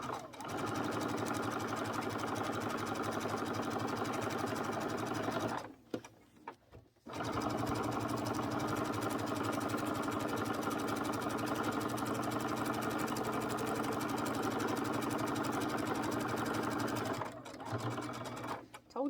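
A sewing machine stitches a long seam on an egg-gathering apron, running with a fast, steady mechanical whir and needle chatter. It pauses briefly twice, with a short stop and restart near the middle.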